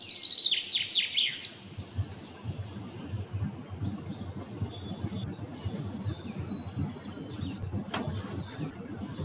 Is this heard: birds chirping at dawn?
yes